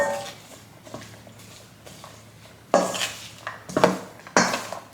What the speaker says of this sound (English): And mix everything all together.